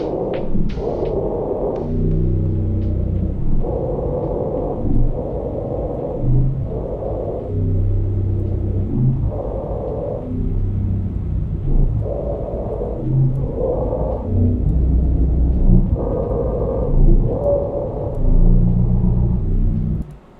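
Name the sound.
monster sound pitched down four octaves with warp in Ableton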